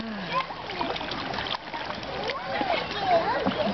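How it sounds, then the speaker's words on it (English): Catfish thrash and splash at the surface of a lake in a feeding frenzy, a continuous churning of water with voices talking over it. "Feeding frenzy."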